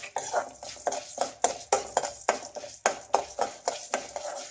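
Fenugreek seeds fried in a pan for marriage-style drumstick sambar, stirred with a utensil that scrapes the pan in a steady run of quick, close strokes. Each stroke is a short metallic scratch, about two per second.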